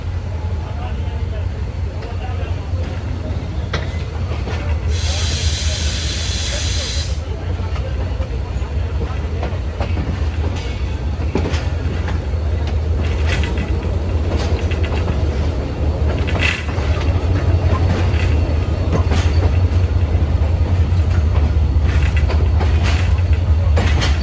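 Khushal Khan Khattak Express pulling out of Karachi toward Cantt station, a continuous low rumbling run with a brief hiss burst early on and some faint clatter, while someone talks over it.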